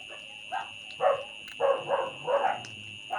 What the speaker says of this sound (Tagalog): Na yung mga aso, maingay na yung mga aso.